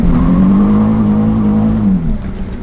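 A Nissan 350Z drift build revving on a private driveway while the brake cuts out the accelerator, giving a loud, close, steady engine drone that holds, then sags and fades slightly toward the end.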